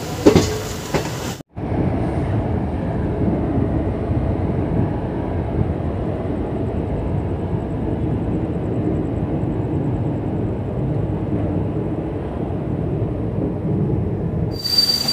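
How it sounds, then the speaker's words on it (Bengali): A passenger train pulls out of Santragachi Junction, heard from on board: a sustained rolling rumble with wheel and rail noise that holds steady for many seconds after a brief cut at the start. "বন্ধুরা আমাদের ট্রেন সবাই মাত্রই ছাড়লো,"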